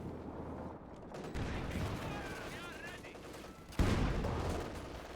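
Battle gunfire in Company of Heroes 2 aimed at a Panther IV tank, a dense rumbling barrage with a heavier blast midway, mixed with game effects and some background voice.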